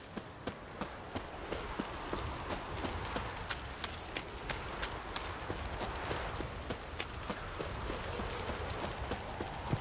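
Horse hooves clip-clop at a steady trot in The Witcher 3, sharp regular hoofbeats running through the whole stretch over a constant low ambient bed, with no talk.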